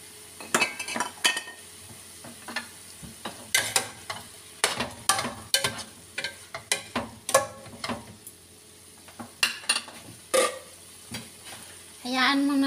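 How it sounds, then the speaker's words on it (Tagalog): Chicken pieces for tinulang manok sauté in a pan after fish sauce goes in, with a steady sizzle broken by many sharp clanks and scrapes of a utensil stirring against the metal, near and fairly loud, with no talking. "Hayaan muna natin siya maluto sa gisa, guys."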